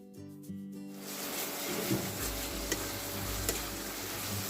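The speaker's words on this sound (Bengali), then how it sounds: "মশলা থেকে তেল না বেরোনো পর্যন্ত খুবই ভালো করে মশলাটা ভেজে নিতে হবে" Spice paste sizzles steadily in hot oil for Bengali chicken kasha, a dense continuous hiss that rises after a brief quieter start, with occasional soft ticks from stirring.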